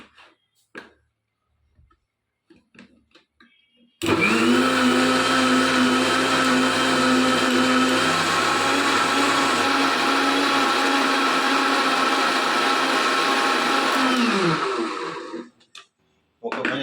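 A kitchen blender grinds bitter gourd with water and a pinch of salt for juice, a loud, steady whirr of about eleven seconds, preceded and followed by quiet clicks and handling.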